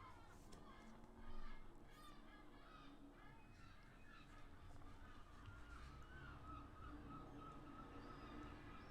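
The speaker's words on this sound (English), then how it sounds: "you can hear the seagulls are going fucking crazy outside" Gulls caw and squawk repeatedly in the distance, faint and muffled as if heard through a window, with one louder call early on.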